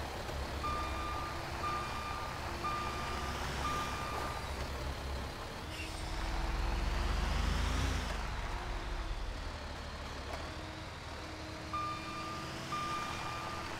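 Rhythmic reversing beeps from a mining truck backing up in a game, steady evenly spaced tones over a low idling engine, with a hiss of air brakes and a brief engine surge midway.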